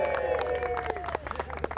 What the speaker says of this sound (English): this bankside runner there clapping